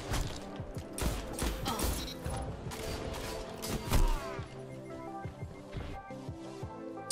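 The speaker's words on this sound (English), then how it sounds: "Just being super aggressive this game with the shotgun." Shotgun blasts go off in a Destiny 2 match, sharp booming shots in quick bursts mixed with ability effects and mechanical clatter, loud and close, then fading into quieter game sounds.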